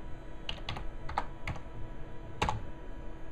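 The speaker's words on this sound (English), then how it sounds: "And I'm going to type my password." Typing a password on a computer keyboard, with a handful of close, crisp key clicks in an irregular rhythm over a quiet room hum.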